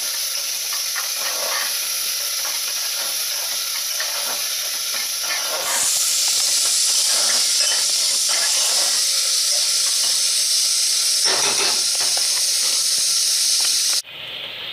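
Onions frying in a pan for a simple mutton curry give a steady, hissing sizzle with soft crackles and scattered stirring taps, swelling louder midway and dropping abruptly near the end.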